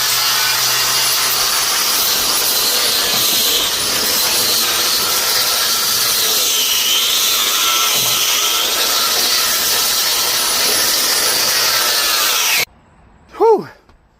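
Grinder working along body seams of a 1991 Honda CRX Si, a loud continuous abrasive whine with shifting pitch for about twelve seconds, then cutting out as the motor spins down briefly.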